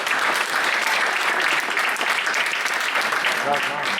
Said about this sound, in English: Let's give both of them a round of applause.